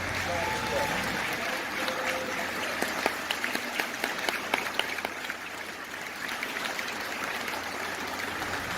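Audience applause at an NAACP national convention in New Jersey, a steady, dense wash of clapping filling the hall for the whole stretch, with scattered louder claps and cheers standing out.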